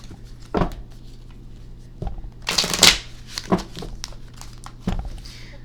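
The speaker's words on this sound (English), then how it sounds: "let's give it a good shuffle real quick" Tarot cards get shuffled by hand in several separate bursts of riffling and flicking, close and crisp with short pauses between them and no talking.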